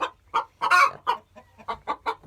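A hen clucks in a farm chicken coop near her egg, a run of short, close, agitated clucks and squawks in uneven bursts.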